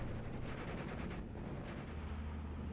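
Sustained rifle and machine-gun fire from the Steel Division: Normandy 44 strategy game, a dense continuous crackle of gunshots with low rumbling underneath, steady and loud throughout.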